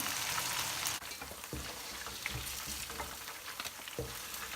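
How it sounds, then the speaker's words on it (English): Spicy chicken strips fry in hot oil with a dense, steady hiss and crackle, close and loud, broken by a few soft knocks as the pieces are moved. "I'm going to take this out and then fry it again"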